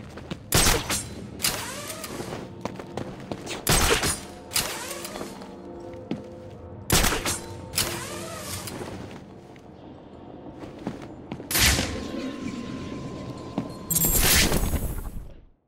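Sharp, loud gunshots in Batman: Arkham City crack out in irregular bursts, some doubled, separated by quieter stretches of faint mechanical background.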